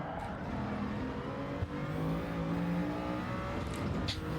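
A VGT car engine in a racing video game holds a steady, droning whine with shifting pitch as it accelerates, heard continuously at moderate volume.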